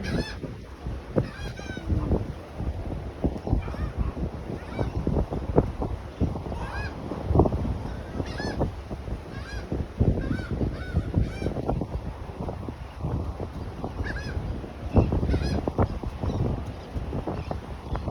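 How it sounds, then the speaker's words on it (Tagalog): A flock of geese honks repeatedly, loud and close, with overlapping calls over wind noise and a low rumble. "Dami oh, dami ibon naglipat."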